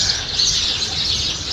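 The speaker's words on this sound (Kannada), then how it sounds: "ಈಗ ಬರ್ಡ್ ಸೌಂಡ್ ಕೇಳ್ಕೊಂಡಿದ್ರೆ ತುಂಬ ಖುಷಿಯಾಗುತ್ತೆ" Morning birdsong outdoors in Ooty, heard as a steady wash of high chirps and tweets that continues through the whole moment with no talk over it.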